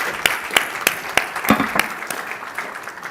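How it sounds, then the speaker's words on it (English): Audience applause at a central bank annual conference session, a small room of distinct, fairly close hand claps in a loose rhythm that thins out and fades by the end. "I will ask for an applause to Hei-Yun and Catherine"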